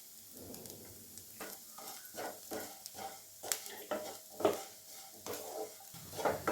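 Ground masala fries in a pan of carrot fry while a spoon stirs it, giving a soft sizzle broken by repeated scraping strokes and occasional clinks against the pan, close and fairly quiet.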